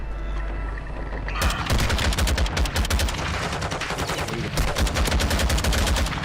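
Rapid bursts of automatic gunfire crackle loudly and nearly without pause in Call of Duty: Warzone 2.0, with dense overlapping shots after a short quieter opening.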